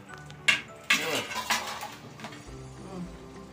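Food being stirred in a cooking pan in a home kitchen while vada curry is made to go with wheat puris, with metallic clinks and scraping bursts early on, then a softer steady bubbling, amid speech.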